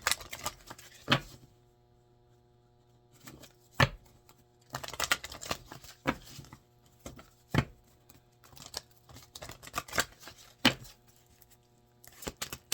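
Crisp papery riffling and slapping of tarot cards being shuffled in several quick bursts, close by, with brief pauses between, no talking.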